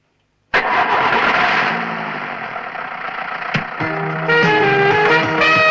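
A vehicle engine cranks and catches loudly right after silence, then settles into a steady idle with a brief knock and a slight rise in revs, close and with no talk.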